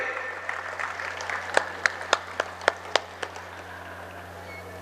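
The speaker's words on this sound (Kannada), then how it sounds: "ನೀವೊಂದು ಚಪ್ಪಾಳೆ ಹೊಡೆಯೋಕ್ಕಾಗಲ್ವ ಅವರಿಗೆ? ಹೊಡೀರಿ ಜೋರಾಗಿ." An audience claps in a steady burst of applause at an award ceremony honouring a film artist, with a few louder individual claps standing out near the front over the crowd's continuous patter.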